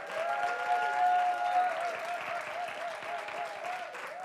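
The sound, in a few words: audience applause for MC and host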